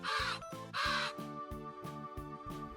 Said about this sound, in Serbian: Veliki, crni i pametan, to je gavran. Njegov glas je snažan.